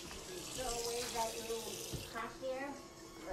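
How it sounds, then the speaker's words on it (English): Water runs steadily from a tap into a sink during a plumbing pipe repair, a continuous close splashing rush with voices talking faintly around it. "We got water running."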